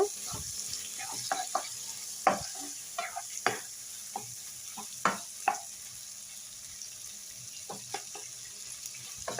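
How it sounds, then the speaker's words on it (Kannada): A non-vegetarian village dish is stirred and fried in a pan, with scattered scraping knocks of the spoon over a steady, quiet sizzle, and no talking. "ಇವಾಗ ಚೆನ್ನಾಗಿ ಮಿಕ್ಸ್ ಮಾಡೋಣ ಸ್ವಲ್ಪ ಇಲ್ಲ ಚೆನ್ನಾಗಿ ಫ್ರೈ ಆಗಲಿ ಇದು"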